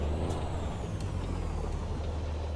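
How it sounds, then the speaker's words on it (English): Air brakes hiss repeatedly from a heavy truck in American Truck Simulator, a steady low engine rumble underneath with short sharp releases of air standing out over the continuous drone. "I'm a little bit harder on the brakes than what's needed."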